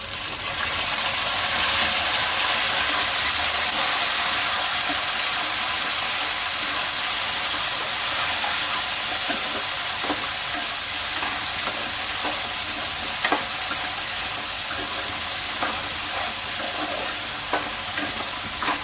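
Tomatoes tipped into a hot pan for bread semiya upma, giving a steady, close sizzle and frying hiss with light stirring and scraping clicks throughout, no voices.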